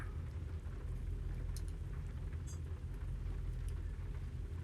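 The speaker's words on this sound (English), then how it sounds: "This is bog standard rain in the sim." Steady, even rain hiss in American Truck Simulator, heard from a truck cab in-game with a low constant rumble underneath and a few faint drop ticks, no voices.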